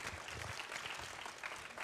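Brief burst of audience applause at an innovation trophy awards ceremony, dense and steady clapping heard from a distance and fairly soft, with no talk over it.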